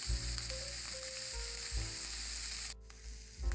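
Onions fry in a pan on a stovetop as they start to caramelize, a steady close sizzle and crackle with a few faint stirring scrapes, then a short dip before the sizzle resumes.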